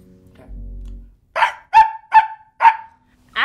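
A person imitates a dog, giving five sharp, evenly spaced barks in quick succession, loud and close after a brief low hum.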